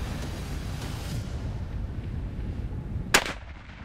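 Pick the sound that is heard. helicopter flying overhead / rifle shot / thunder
rifle shot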